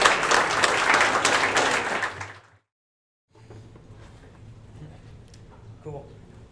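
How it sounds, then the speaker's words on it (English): Audience applause at an Indienomicon indie game developer event, moderately loud clapping for about two seconds that fades into silence, followed by quiet room tone. "please give a round of applause to Chris and Matthew Ross"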